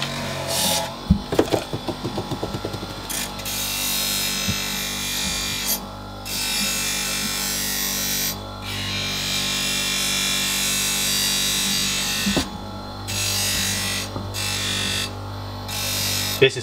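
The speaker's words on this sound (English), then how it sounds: "I'm going to apply the wax to the wheel and then grind off the tool or polish the tool surface nicely" A firm buffing wheel loaded with green wax polishing a hand-forged pole lathe bowl-turning tool: a loud, steady whirring grind that breaks off in several short pauses, with a few clicks near the start.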